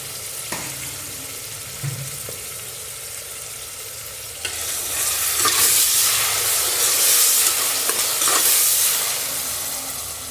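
Onions frying in a pan with turmeric powder for kushka rice: a soft sizzle with light stirring, then a louder, steady hiss of frying from about the midpoint onward. No voices.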